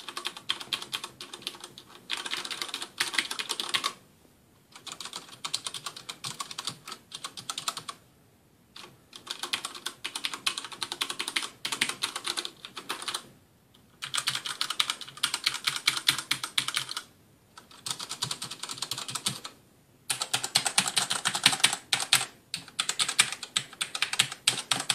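Clicky mechanical keyboard typing on brown-switch keyboards such as the Ducky DK9008 and CM Storm Trigger, in bursts of several seconds separated by short pauses, close and moderately loud with no talking.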